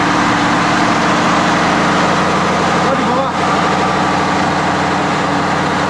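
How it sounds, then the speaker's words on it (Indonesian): Generator set running for lighting in the engine room of the Indonesian sail training ship KRI Dewaruci, a loud, steady low droning hum throughout, with a brief voice speaking over it. "Gensetnya nyala, generatornya nyala untuk penerangan."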